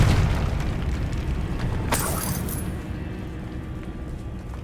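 Confringo blasting spell cast in Hogwarts Legacy: a single sharp fiery burst and boom about midway, over a steady bed of game ambience and rumble that slowly fades.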